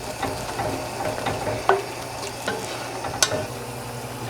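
Poultry seasoning being stirred into a bowl of stuffing, giving a steady soft scraping and rustling with a few sharper clicks of the spoon against the bowl, close and alone.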